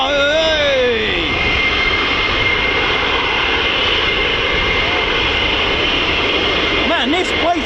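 US Air Force fighter jets of the 494th Fighter Squadron at RAF Lakenheath roar loudly overhead in a continuous jet rumble, with a pitch sweep early on and a person talking and shouting over the noise.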